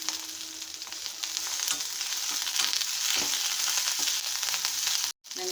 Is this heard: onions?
yes